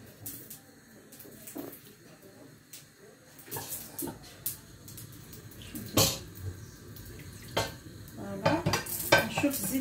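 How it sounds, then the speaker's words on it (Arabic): Cooking oil heating in a pan for tacos and fries, a low steady sizzle under scattered clinks and scraping utensil knocks, close by, growing busier toward the end. "شوف الزيت تاعي راهو يسخن"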